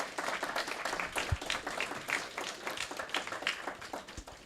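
Audience at a refugee employment event applauding the speakers, a dense patter of many hands clapping at moderate volume throughout, with a couple of low thumps.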